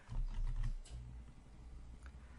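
A bill number keyed in on a computer keyboard, heard as a short burst of quick, close key taps followed by a few softer, scattered presses in a quiet room.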